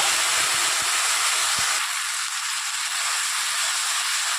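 Ground spice paste of ginger, green chilli, mustard and poppy seed with turmeric fries in hot oil for a tilapia fish curry, a loud steady close sizzling hiss with a few small pops.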